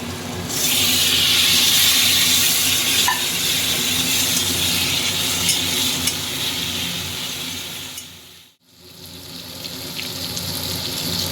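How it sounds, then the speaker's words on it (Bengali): Snakehead fish and a splash of water go into a hot pan for a Bengali pea-leaf dish, giving a loud, steady sizzle and hiss that holds throughout and drops briefly to near silence before picking up again. "এবার আমি মাছ দিয়ে অল্প জল দিয়ে দেবো"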